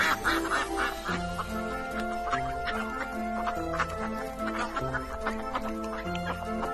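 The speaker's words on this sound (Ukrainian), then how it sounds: "Здається, це качка." Continuous, overlapping duck quacks, loud and close, forming a busy chatter that carries on throughout.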